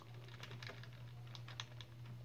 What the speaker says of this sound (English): I'm going to click F10